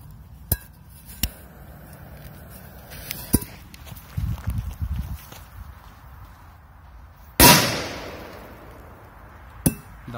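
A single sharp, loud firecracker bang bursts out and decays quickly, surrounded by scattered clicks, knocks and handling noises nearby.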